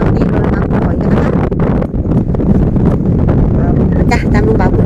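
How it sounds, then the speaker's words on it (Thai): Strong wind gusts buffet the microphone on a beach by the sea during a clam-digging outing, a loud, continuous roar of rushing air with bursts of clipping, and someone speaking beneath it. "วันนี้ลมแรงมากๆนะคะ"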